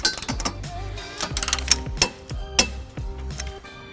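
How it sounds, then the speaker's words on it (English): An 18mm socket on a 5-inch extension tightens a bolt on a trailer hitch under a 1999 Chrysler Town and Country, giving a quick series of close metallic ratchet clicks and clinks with no voices. "So we're going to use an 18mm socket with a 5-inch extension"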